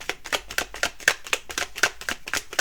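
A deck of oracle cards being shuffled by hand, a quick run of soft papery riffles and flicks in an even rhythm, close and moderately quiet, with no talking.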